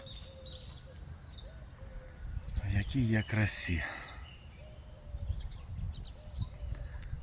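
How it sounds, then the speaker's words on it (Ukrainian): Birds chirp and sing faintly in the background outdoors, with a short burst of a person speaking partway through. "Чуєте, як пташки співають."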